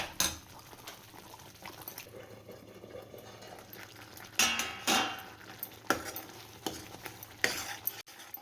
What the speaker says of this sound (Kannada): ನೋಡಿ ಈಗ ಕುದಿ ಬರ್ತಾ ಇದೆ. ಸೊ ತಳ ಹಿಡಿಬಾರ್ದು. ಸೊ ಹಾಗಾಗಿ ತಿರುಗಿಸ್ತಾ ಇರ್ತಿದ್ದೀನಿ ನಾನು.